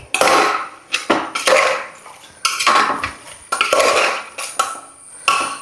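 Stirring beef curry with onions in a pot, a spoon scraping and clattering against the metal in repeated bursts, loud and close, with no voices.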